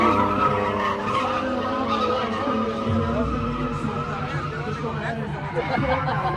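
Drift car, a replica of a well-known drifter's car, skids around a track with sustained tire squeal and engine roar that rises and falls, while an announcer's voice runs over it.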